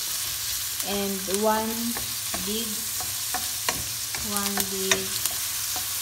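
Garlic cubes frying in olive oil give a soft, steady sizzle, with a few stirring clicks, heard under a person speaking.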